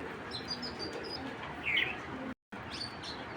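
Imported racing pigeons coo and chirp in a busy loft, with a steady bed of bird noise, a brighter chirp standing out near the middle, and a short dropout of sound.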